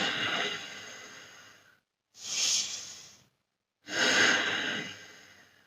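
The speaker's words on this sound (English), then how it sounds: "This way also we can do the Ujjayi Pranayama, hissing Pranayama." Ujjayi pranayama breathing, a hissing breath drawn through the throat, heard as three long breaths separated by short silences, close and fairly loud with no talk.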